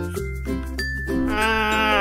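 A single Merino sheep bleat rings out close and loud: a wavering, drawn-out call heard on its own with no voices.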